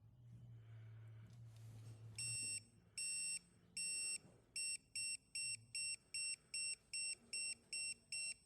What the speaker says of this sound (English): This torque wrench, it beeps a lot